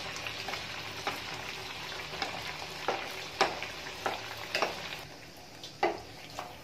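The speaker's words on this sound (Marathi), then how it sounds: "हे तेलामध्ये सोडायचे आणि वरून हे असं झाऱ्याने तेल वरती त्याच्यात टाकायचं आहे." Sweet pumpkin puris (gharge) fry in hot oil with a steady, fairly soft sizzle, while a slotted spoon clinks and splashes oil over them in scattered taps; no one speaks.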